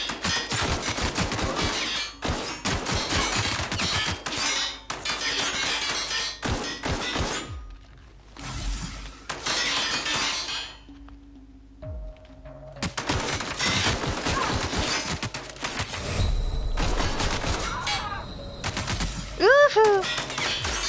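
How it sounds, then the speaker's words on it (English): Shotgun blasts in The Outer Worlds, loud and repeated in rapid bursts with short silent gaps, mixed with game effects and thuds, a voice briefly heard near the end. "Oh, this shotgun's terrible."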